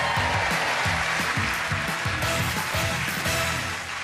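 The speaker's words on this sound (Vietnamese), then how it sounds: "Một tràng pháo tay cho nghệ sĩ Lê Khánh và nghệ sĩ Đại Nghĩa thưa quý vị" A studio audience gives dense, continuous applause for artists Lê Khánh and Đại Nghĩa on a television game show, loud and steady throughout, with some music underneath.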